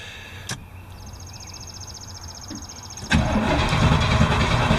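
Van engine cranking briefly and then catching, settling into a loud, steady run close by after a few seconds of quiet, with no talking.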